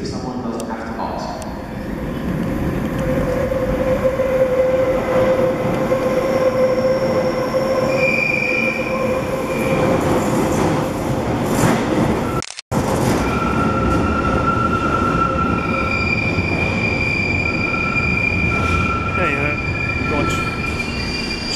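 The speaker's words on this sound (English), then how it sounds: "Train coming to the station." London Underground Bakerloo line 1972 Stock tube train pulling into Paddington station, loud continuous rumble with wheel squeal and rising motor whine throughout, a brief dropout midway, then steady running noise and high screeching tones.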